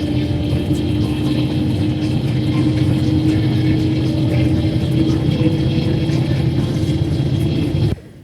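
A Mercedes bus engine drones steadily from inside the cabin while the coach is underway on the Garut to Bekasi route, with a continuous loud low rumble that cuts off abruptly near the end.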